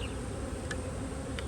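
Honey bees buzz steadily in a Hive IQ hive while a nuc is installed, a dense continuous drone that stays close and constant throughout.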